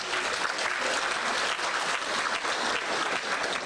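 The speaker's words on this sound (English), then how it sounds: "please give yourself a big round of applause" Guests at a 50th Golden Jubilee gathering of the United Pangasinanis of America give a big round of applause, a dense, even wash of clapping from a sizable crowd that holds steady throughout.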